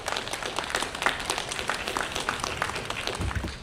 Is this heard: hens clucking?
no